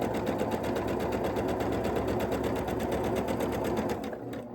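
A sewing machine runs continuously, stitching quilt block pieces with a close, steady, rapid whirring rattle that holds for about four seconds before slowing and fading at the end.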